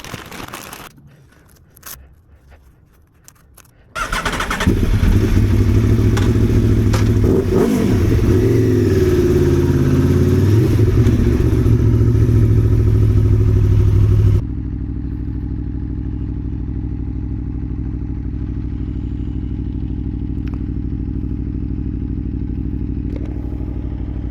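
A loud motorcycle engine revs up suddenly and holds a strong roar, then settles to a steady lower drone as the ride continues.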